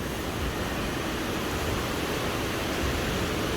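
Waves churn in an indoor waterpark wave pool, a dense, steady wash of rushing water filling the space evenly at moderate loudness with no distinct breaks or voices.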